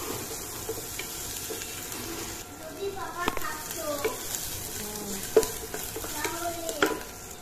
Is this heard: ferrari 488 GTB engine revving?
no